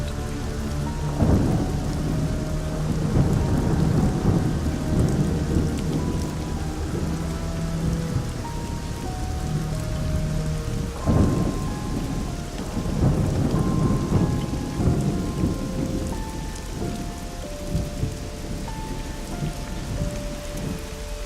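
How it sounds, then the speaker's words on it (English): Steady cold rain pours in Hawaii with rumbling thunder breaking through, loud bursts around two and eleven seconds over a constant wash of drops, with faint tonal music-like lines woven underneath. "When did it ever rain like this in Hawaii? It's a cold rain."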